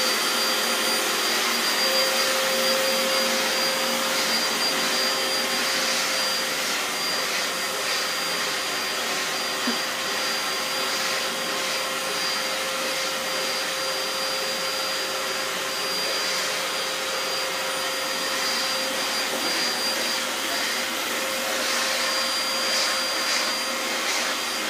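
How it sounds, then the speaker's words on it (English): Vacuum cleaner running steadily while hoovering cats, a constant loud whine and hum that holds at the same level for the full length, with no talk over it. "We're going for the cat hoovering Olympics."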